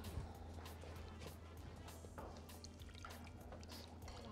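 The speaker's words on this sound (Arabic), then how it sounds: "خلي ميه الورد دي في الاخر، بس احط لها كوبايتين ميه." Water poured from a glass into a cooking pot while making syrup for Egyptian sweets, a faint steady trickling stream with a low background hum and no talking.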